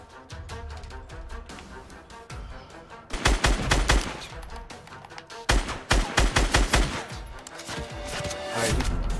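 Rapid bursts of gunfire from a Fortnite battle royale match, loud repeated shots and volleys in clusters with heavier impacts around the middle, nearly continuous across the clip.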